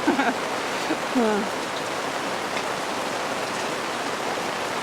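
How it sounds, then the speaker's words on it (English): Wet-season rain in Broome, Australia hisses continuously as a dense wash of noise, with a brief bit of faint voice near the start. "now that it's raining"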